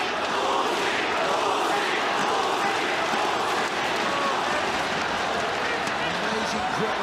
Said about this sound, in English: Amazing crowd here. Sounds like a football arena. They're all cheering on Geje Eustaquio.